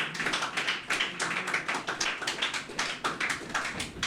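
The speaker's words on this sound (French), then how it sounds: "sous vos applaudissements, s'il vous plaît" Applause from a seated audience at a youth book-summary contest honoring the first-place winner, a quiet, steady patter of many hands clapping at a moderate distance, with no talk over it.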